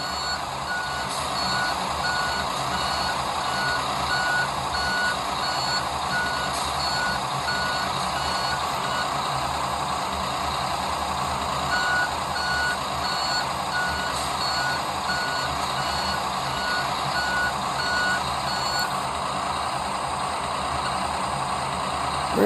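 A truck's reversing alarm beeps in a steady repeating rhythm over a constant engine drone in a trucking simulator game, loud and close with no talk.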